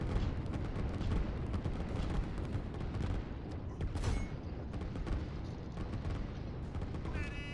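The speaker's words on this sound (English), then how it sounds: "You can see just how many artillery shots they take." Artillery fire in the strategy video game Line War, a dense continuous barrage of booming shots and blasts layered over one another, loud and unbroken throughout with occasional brighter electronic tones on top.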